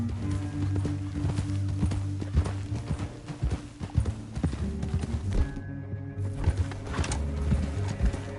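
Horses galloping in the Western video game Red Dead Redemption, rapid clip-clop hoofbeats running continuously and fairly close, with an occasional whinny and faint ambient birds.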